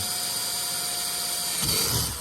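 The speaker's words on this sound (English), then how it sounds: "And just drill my last two holes." A power drill boring holes through a plastic kayak hull, a steady high whine running throughout that deepens and roughens near the end as the bit bites in.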